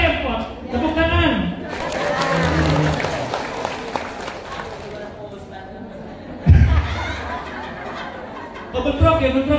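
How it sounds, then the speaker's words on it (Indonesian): An audience at an Indonesian community gathering breaks into applause mid-speech, a broad wash of clapping that swells and fades under continuing talk and scattered chuckles. "Tepuk tangan."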